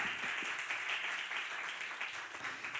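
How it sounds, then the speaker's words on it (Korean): Church youth members being congratulated with steady, dense applause from a congregation, a continuous wash of clapping at moderate distance with no break. "우리 박수로 축하하겠습니다"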